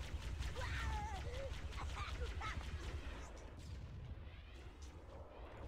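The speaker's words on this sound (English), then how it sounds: "There's a wraith that is firing at us" A Wraith vehicle fires in a video game, and heavy booming shots rumble through a burst of blasts early on, then fade as voices talk over the noise.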